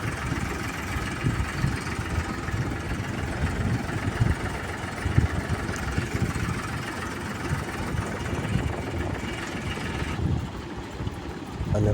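A tractor engine drones steadily while sowing peanuts in a farm field, a continuous mid-pitched rumble with rattling, heard from on board throughout and dropping slightly near the end.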